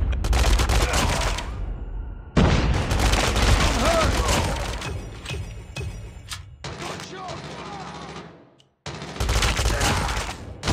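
Gunfire from Call of Duty Mobile, dense rapid bursts of shots in loud clusters broken by short pauses, with a grenade blast in among them and in-game voice callouts layered over the shooting.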